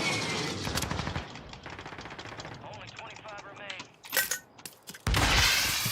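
Gunfire in a video game, heard as rapid automatic bursts of shots, loud and close, broken by short pauses and a few sharp louder cracks near the end, with some background sounds between volleys.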